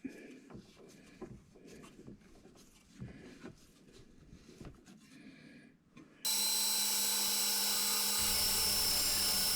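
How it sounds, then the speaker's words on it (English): A bandsaw with a worn blade cuts sandstone, starting with scattered grinding and scraping bursts before a loud, steady high-pitched cutting whine kicks in abruptly about two-thirds of the way through. "This was the series of cuts where I ultimately thought to myself that I need to replace this bandsaw blade"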